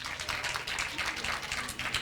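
Audience applause, a dense patter of many hands clapping steadily and fairly close, with no voices over it.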